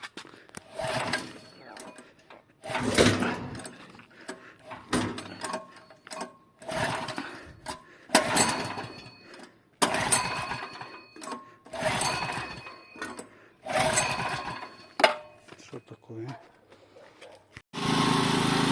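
A Kamastsu KS3800E petrol generator is pull-started by hand, with about eight rough cranking bursts separated by short silences before the engine catches and runs steadily and loudly at the end.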